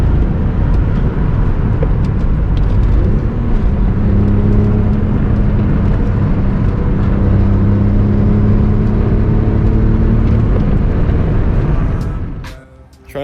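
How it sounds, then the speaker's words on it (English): A BMW Z3's engine drones steadily while driving, then rises briefly as it revs for a rev-matched downshift, fairly loud and close throughout. "Open it up a little bit. Hit the downshift,"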